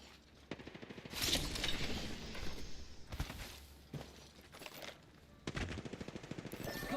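Gunfire in a ranked battle royale match, rapid automatic bursts broken into several strings of shots, a clear and fairly close spray of rounds with short pauses between them.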